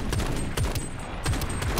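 Gunfire in the video game Shatterline: repeated rapid weapon bursts in dense volleys, loud and close, with almost no pause across the clip.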